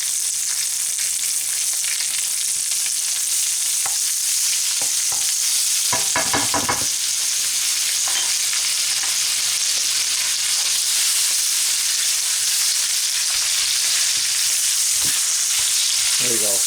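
Sous vide garlic and rosemary pork chops sizzle loudly in a pan with butter, a constant close hiss of frying broken by a few brief scraping and stirring clatters.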